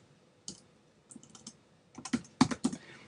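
A short burst of typing on a computer keyboard: a few isolated keystrokes, then a quicker run of close, crisp clacks, with no voices.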